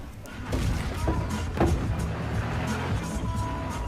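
Car driving in Battlefield Hardline multiplayer: a steady engine drone runs throughout the clip, with a couple of dull thumps near the start and middle, all mixed with game background noise.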